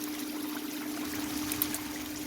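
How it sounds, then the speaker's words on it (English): Water runs steadily through a stream sluice box set on a shallow pitch, a continuous close rushing and trickling with no talk. "I'm running my stream sluice on about a 12 and a half degree pitch."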